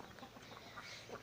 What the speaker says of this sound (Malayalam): എൻ്റെ വീട്ടിലുള്ള കരിങ്കോഴി